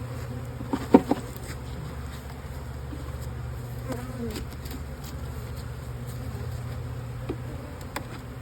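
Honey bees hum around an open hive being split into several colonies, a low steady drone close by with a few faint knocks and brief rustles, no talk over it.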